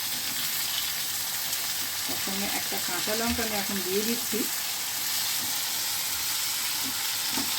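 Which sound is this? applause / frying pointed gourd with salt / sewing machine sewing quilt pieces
frying pointed gourd with salt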